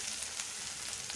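Cauliflower pieces for Gobi Manchurian fry in a pan with a dense, steady hiss and sizzle, close and continuous with faint crackles throughout.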